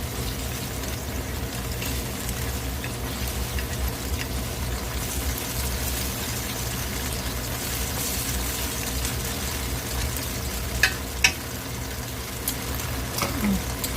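Beef steak topped with melting cheese sizzles in a pan as the cheese bubbles. A steady, even hiss runs throughout, with a few sharp pops and clicks near the end.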